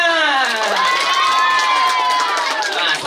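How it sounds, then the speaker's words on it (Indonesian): Guests at a child's first birthday party clap and cheer together. The clapping is dense and loud and mixes with children's shouts and excited voices for the whole stretch. "Oke, tepuk tangan."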